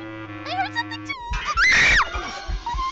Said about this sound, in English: Bro, they are screaming.